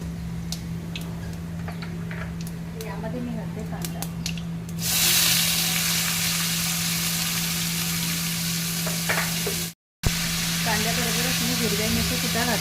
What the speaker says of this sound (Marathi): तेल गरम झालं की यामध्ये भाजी आपण मोहरी आणि जिरं